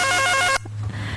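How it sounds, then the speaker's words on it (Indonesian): A telephone rings with a repeating electronic warble in short pulses during a hospital call-in talk show about diabetes, then cuts off abruptly partway through, leaving quiet room tone. "Nah, berdering."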